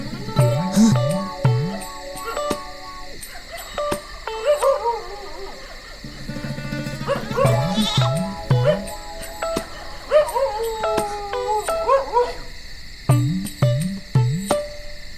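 A dog barks, yips and howls repeatedly in bursts, fairly close, with voices talking in between in a Malayalam comedy film scene.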